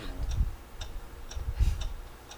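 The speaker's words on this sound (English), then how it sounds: "What is that mysterious ticking noise?" Mysterious ticking noise: a steady, soft clock-like tick-tock repeating about every half second, close and clear, with low thumping beneath it and no talk.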